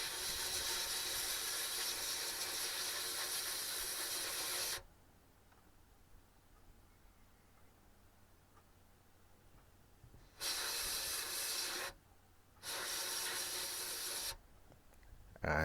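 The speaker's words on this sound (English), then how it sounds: "So into the media blaster now. As I mentioned before, I use Aluminium Oxide." A media blaster firing aluminium oxide strips paint from a small die-cast Matchbox toy car, a loud steady hiss of air and grit in three bursts separated by quieter pauses.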